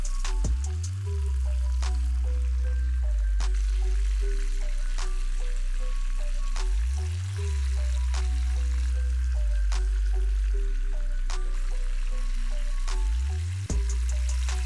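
Tomatoes blister in a pan for a Peshawari chicken karahi, giving a steady close sizzle and crackle, with low rhythmic humming pulses repeating underneath.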